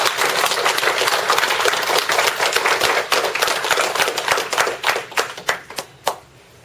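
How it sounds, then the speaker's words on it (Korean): A Won Buddhist congregation in Los Angeles gives a big round of applause, dense clapping that thins into a few scattered, distinct claps before stopping. "다시 한번 큰 박수 드립니다"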